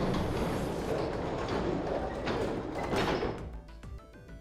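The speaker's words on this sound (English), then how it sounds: "they both pushed and the gate creaked open" A heavy gate in the video game 999 grinds open with a long, loud scraping rumble that fades at the end, while a tonal music note rises beneath it.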